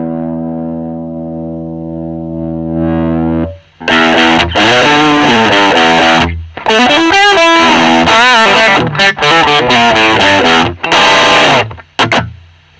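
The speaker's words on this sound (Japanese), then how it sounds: "ディストーションって結構バリバリした音がするので" Electric guitar through the distortion effect of a Roland Jazz Chorus-40 amp: a clean sustained chord rings at first, then loud, gritty distorted chords and riffs follow in bursts with short gaps.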